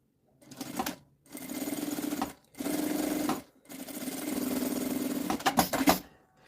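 A sewing machine runs at half-foot stitching on lining fabric for a child's document holder, with three loud sustained whirring bursts separated by short pauses and a few clunks of handling at the end.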